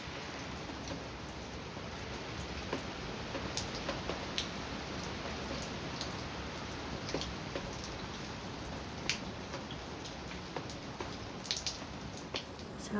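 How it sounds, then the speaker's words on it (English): Heavy rain pouring steadily outdoors on Cape Cod in windy weather, a dense continuous hiss of drops with scattered louder splashes on nearby surfaces, no voices. "it's still pouring behind me"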